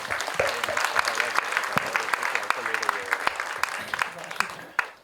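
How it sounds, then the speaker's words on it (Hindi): A crowd at a film trailer launch event bursts into dense, sustained applause, many hands clapping steadily for several seconds before it tapers off at the end. "इनके लिए तो जोरदार तालियां बनती हैं"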